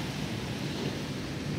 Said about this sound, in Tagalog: Grabing hangin talaga, glads.